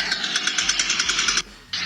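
A faulty car CV joint gives a rapid rhythmic clicking rattle, loud and close, running steadily before cutting out briefly and resuming.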